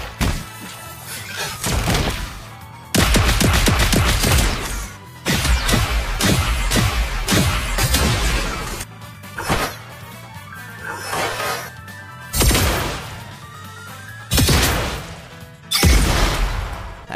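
Skill effects of the Granger Valentine skin in Mobile Legends: a string of loud, sharp gunshot-like bursts and crashing impacts, arriving in separate punchy volleys with short gaps between them.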